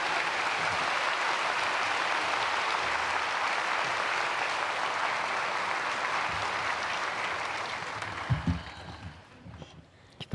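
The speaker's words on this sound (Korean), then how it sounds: "박수로 맞이하겠습니다." A Korean church congregation at a Sunday praise service applauds to welcome a visiting pastor, a loud, dense sustained clapping from a large crowd that thins and dies away near the end, leaving a few scattered claps and soft thumps.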